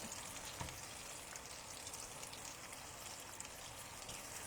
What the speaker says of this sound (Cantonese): 咁咧就唔好咁心急去反啦，咁啊煎到佢香啊，